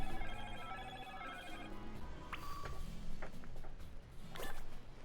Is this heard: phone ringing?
yes